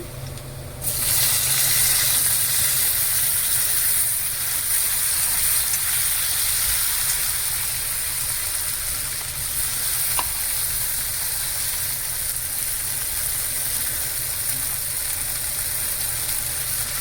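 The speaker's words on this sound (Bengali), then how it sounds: "পেঁয়াজটা ভাজা হয়ে গেছে, এবার টমেটো কুচিটা দিয়ে দেব" Chopped tomatoes go into a pan of fried onions and sizzle with a steady, loud hiss that holds for the whole stretch, with no voices.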